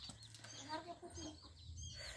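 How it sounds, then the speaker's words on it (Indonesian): Chickens clucking in a vegetable garden in the late afternoon, soft intermittent calls at moderate distance with rustling and a child's and adults' voices talking over them. "Mama Anggi ada ayam banyak."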